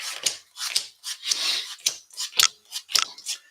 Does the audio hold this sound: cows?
no